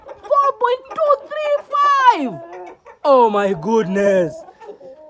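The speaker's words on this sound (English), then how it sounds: "So this rooster seems to be very, very heavy." Rooster clucking and calling up close on a poultry farm, a heavy bird giving several loud, rising and falling fowl calls in bursts, with a brief excited voice near the end.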